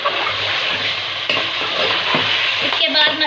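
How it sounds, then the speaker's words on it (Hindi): Ginger garlic paste frying with meat for achar gosht, loud dense sizzling close to the pan while a spoon stirs and scrapes through it, continuous and with no one talking. "2 से 3 मिनट तक इसको फ्राई करें"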